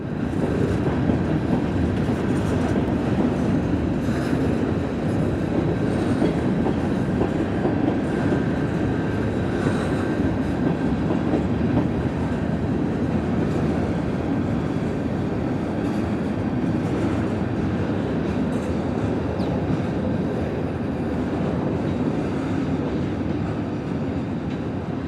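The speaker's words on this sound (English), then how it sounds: "As part of the consist on this switch job was NYS&W's SD45-2 number 3634." A New York, Susquehanna and Western SD45-2 diesel locomotive works a switch job at Ridgefield Park, its engine rumbling and cars rolling in a loud, steady, unbroken roar with faint clatter throughout.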